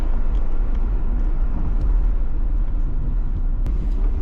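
Steady car engine rumble from a stock Nissan 240SX driving on a road, loud and continuous throughout with broadband road noise and a few faint knocks, no talking.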